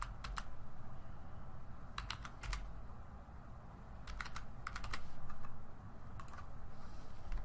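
Close, quiet clicking of keys on a computer keyboard as a fax number is entered, coming in short clustered bursts separated by pauses, over a faint room hum.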